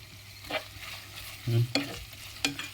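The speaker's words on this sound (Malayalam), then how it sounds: "വീണ്ടും ഇളക്കി വെച്ച്, ഓക്കെ, വീണ്ടും ഇളക്കി വെച്ച് നല്ല രീതിയിൽ അതിനെ ഒന്ന് വേവിക്കുക" Sliced onions with a pinch of salt are stirred and sautéed in a pan, giving a steady soft sizzle broken by a few distinct scraping stirs of the spoon against the pan, close and fairly quiet.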